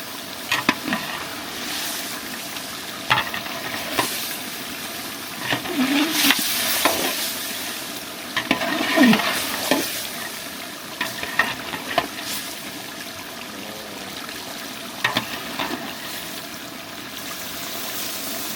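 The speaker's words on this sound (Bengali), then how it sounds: "নেড়ে দেন, তাছাড়া তো ওই যে তলে পড়া যাবে।" Beef bhuna being stirred in a frying pan over a village cooking fire, a steady sizzle with repeated scraping stirs throughout, close and fairly loud, with faint voices now and then.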